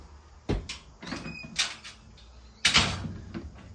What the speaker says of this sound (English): where we've got a screen door